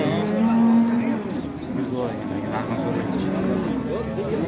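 At the Baliqchi cattle market, a cow lets out a long, clear moo at the start, with lowing cattle and the murmur of people talking around it.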